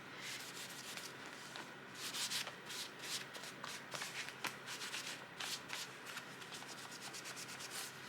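Close, quiet rubbing and scrubbing strokes as a cloth with rubbing alcohol works pen ink off a crossbody bag, a steady irregular friction texture with no talking.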